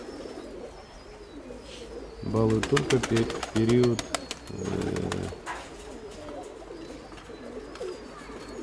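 Domestic pigeons give a few low throaty coos in short bursts close by, while someone talks around them.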